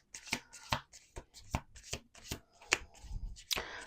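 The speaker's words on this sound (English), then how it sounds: "we're going to do 2 more shuffles on this." A deck of cards being riffled and shuffled in quick repeated bursts, close by, with soft handling noises between the shuffles.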